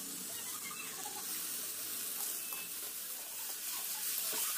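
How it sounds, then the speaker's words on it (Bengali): Jackfruit and potato frying with spices in a wok, giving a steady, even sizzling hiss close by that carries on throughout with no voices. "এই যে এঁচোড়টা আলুটা দিয়ে কষিয়ে নিচ্ছি"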